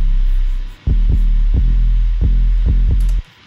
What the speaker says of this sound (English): This is a real short 808 without much tail.